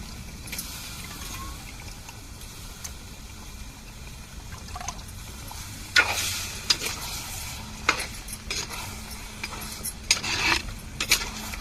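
Chicken sizzles in masala in a pan while a utensil stirs it, the steady frying hiss broken by repeated scraping bursts that grow busier toward the end.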